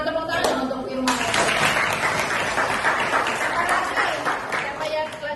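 Classroom applause breaks out as a burst of many hands clapping together, steady and fairly close for several seconds before tapering, with a voice briefly heard at the start.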